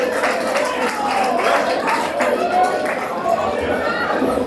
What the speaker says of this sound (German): Applaus für Leute!